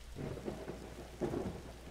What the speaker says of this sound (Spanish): Hasta que pare la tormenta, pues hasta que pare la tormenta